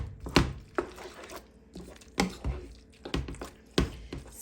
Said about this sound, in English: So we're just going to stir that up